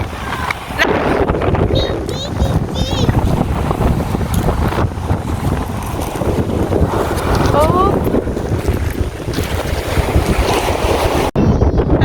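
Strong wind buffets the microphone with constant roaring gusts on East Beach, Shoeburyness, Essex, mixed with surf and faint voices in the background.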